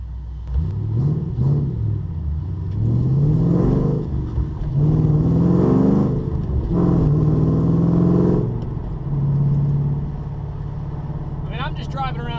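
A Mustang with a newly built motor and new wheels drives around town, its engine rumbling and rising in pitch several times as it accelerates through the gears, fairly loud and close throughout.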